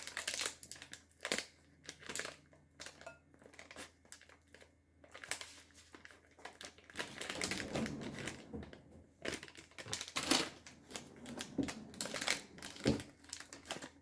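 A bag of Trader Joe's mochi cake mix is cut open with a knife, giving faint crinkling and rustling of the packaging in irregular bursts, some scraping and crumpling, with quiet pauses between.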